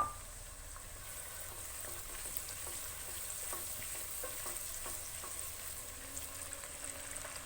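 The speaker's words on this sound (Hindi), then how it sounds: "जी अब शामिल किया हमने टमाटर। टमाटर को 2 मिनट करेंगे सॉफ्ट।" Tomatoes frying with cumin in a pan, cooked for spinach and soft cheese (palak paneer), give a steady low sizzle throughout, with occasional small pops and stirring clicks and no talking.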